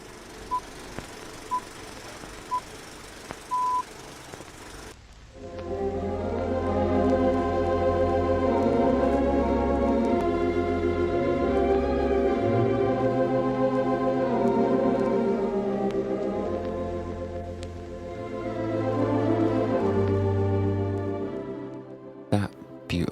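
A Wurlitzer theatre organ plays in the Odeon cinema in Leeds, entering after a few seconds of faint beeps and background, then swelling into sustained full chords that rise and fall before cutting off near the end.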